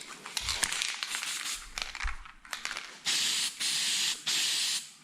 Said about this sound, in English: I'm now gonna spray it with trim and bumper primer.